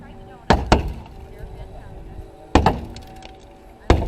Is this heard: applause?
no